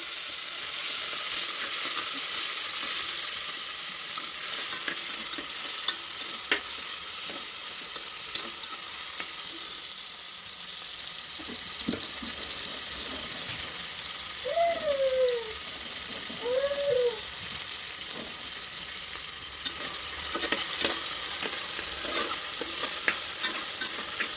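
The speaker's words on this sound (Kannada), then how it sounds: "ಅದಾದಮೇಲೆ ಟೊಮೊಟೊ ಹಾಕ್ತಾಯಿದ್ದೀನಿ ಟೊಮೊಟೊ ಫ್ರೈ" Tomatoes fry in a pan with a steady, close sizzle running throughout, broken by occasional scraping stirs and a few faint chirps in the background.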